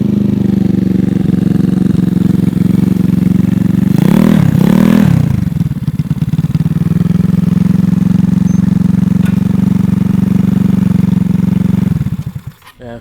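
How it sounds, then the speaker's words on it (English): 171cc GY6 engine in a Honda Ruckus scooter idling steadily just after its first start-up, with a brief burst of revving and clatter early on before settling back to a constant close drone that cuts off at the end. "Now that the bike's warming up and we probably cleaned out all the gunk that was in there"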